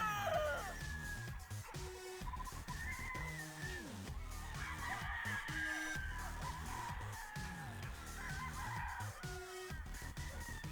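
Brood stag gamefowl roosters crow repeatedly from a breeding farm, several birds overlapping near and farther off, with clucking and a steady background hum throughout.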